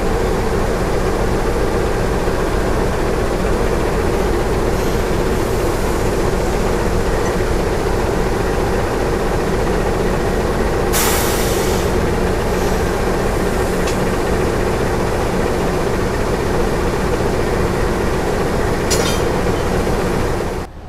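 Loud, steady rumble of the Pangrango train's diesel locomotive idling and shunting slowly toward track 1, with occasional metallic clanks and hiss, no voices.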